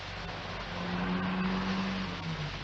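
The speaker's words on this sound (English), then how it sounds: "That car, did you hear it?" A car passes by in a radio drama, its engine swelling briefly then fading over a couple of seconds, moderately near and heard alone.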